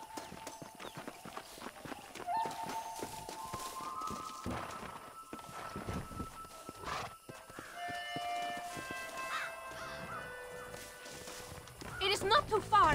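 Horses' hooves clip-clop steadily as a horse-drawn stagecoach rolls along in Red Dead Redemption, with game music and dialogue running over the hoofbeats.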